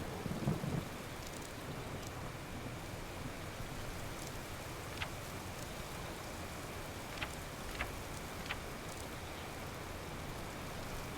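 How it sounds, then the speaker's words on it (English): Steady heavy rain hisses throughout a tropical island thunderstorm in the survival game Card Survival: Tropical Island, with faint distant rumbles and a few sharp crackles, no voices. "it is a storm, and I don't have a door."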